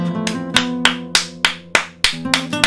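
Single pair of hands clapping in a steady rhythm, about nine sharp, close claps over a sustained musical tone.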